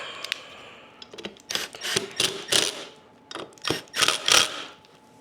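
Screws being run down tight on a CNC machine during a repair, heard as a series of short mechanical ratcheting and whirring bursts, close and moderately loud, with brief pauses between them.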